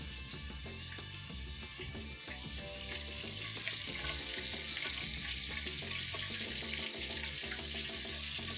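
Country fried ribeye sizzling steadily in a pan of hot corn oil, a dense, continuous crackle and hiss at close range with no voices over it.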